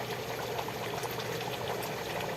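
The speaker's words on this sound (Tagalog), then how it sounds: "kumukulo siya." Vinegar sauce with oil bubbles and sizzles steadily in a pan, a soft continuous crackle of boiling with no voices.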